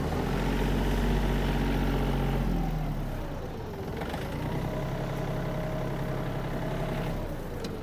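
A Yanmar AF-250 Japanese mini tractor engine runs steadily close by, a loud, even diesel drone whose pitch dips briefly mid-way and then settles again, with no talking.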